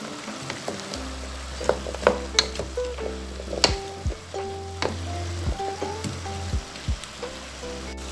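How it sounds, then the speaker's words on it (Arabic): Potatoes are turned through tomatoes and chicken in a pan, with a low frying sizzle under a string of clicks and knocks from the spoon, close by and uneven in rhythm, with no one speaking. "هنبدا نقلب البطاطس كده في الطماطم وفي الفراخ."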